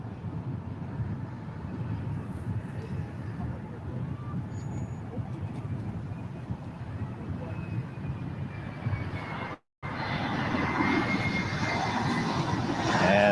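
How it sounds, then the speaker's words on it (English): Asiana Airbus A350 jet passing over downtown Los Angeles near LAX, a steady broad engine roar with traffic rumble underneath, holding level for the whole stretch apart from one brief dropout. "We've got the Asiana A350 making its way over downtown LA"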